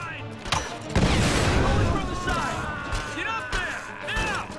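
Gunfire in the video game Tomb Raider (2013), a couple of sharp shots and a burst of booming fire mixed with game sound effects, while someone talks excitedly over and between them.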